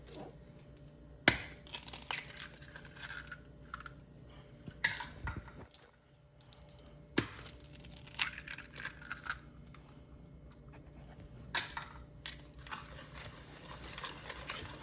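Eggs cracked on the side of a bowl while making cornbread from scratch: several sharp isolated taps and cracks spaced a few seconds apart, close, with soft shell and liquid sounds between, no talking.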